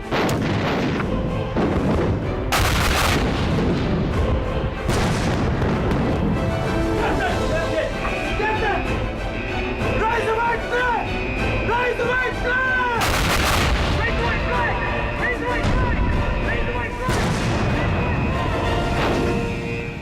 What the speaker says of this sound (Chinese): 左翼炮位，开火！